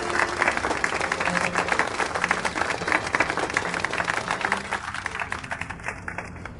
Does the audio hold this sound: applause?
yes